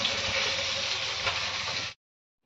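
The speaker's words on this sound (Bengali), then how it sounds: "এখন হচ্ছে প্রথমে মাছগুলো আমি ভেজে নিচ্ছি" Fish fry in a pan in a Bengali home kitchen, a steady, dense sizzle that holds evenly for about two seconds and then cuts off abruptly into silence.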